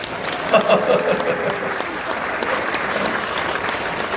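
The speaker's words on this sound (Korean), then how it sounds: "박수 안 쳐?" A rally crowd applauds at a patriotic-movement gathering, a dense, steady wash of clapping that swells early and then holds at a fairly even level, with faint voices mixed in underneath.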